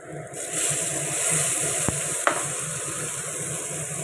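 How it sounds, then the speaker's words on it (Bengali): Food sizzles steadily in hot oil in a pan while a spatula stirs it, with a couple of sharp scraping knocks against the pan over a continuous frying hiss. "এটাকে এবার নাড়তে থাকবো, তেল ছাড়বে"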